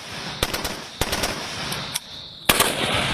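Rifle fire from Indian Army soldiers at night shooting practice: sharp single shots and short bursts crack at irregular intervals over an outdoor hiss, fairly close and loud, with no talking.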